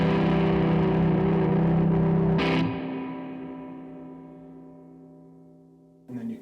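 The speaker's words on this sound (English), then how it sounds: "all the way up we got kind of our surf rock thing" Electric guitar played through a Tone King Falcon Grande amp with the spring reverb full up, a sustained chord ringing with surf-style wash, then a struck sound and a long reverb tail fading to near silence before another hit.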